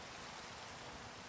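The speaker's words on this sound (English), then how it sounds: "And it's raining." Rain falling in Minecraft, a soft, even hiss of steady rainfall with no distinct drops, faint and continuous throughout.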